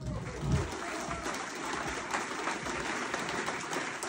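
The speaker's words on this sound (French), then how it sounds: "et on peut les applaudir" Audience applause at a live hypnosis stage show, dense and continuous clapping filling the whole clip at an even level, a busy wash with no talk over it.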